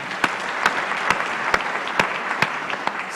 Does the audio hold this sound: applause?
yes